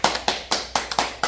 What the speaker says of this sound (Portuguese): E a Malu recebe as nossas palmas.